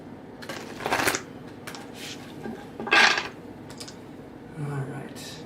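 Short riffles of thick tarot cards being shuffled, three quick bursts over a low room hum, separated by quieter handling sounds.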